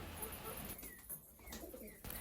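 Pigeons coo faintly in a farmyard where hens are kept, with soft low calls against steady background noise and no clear speech.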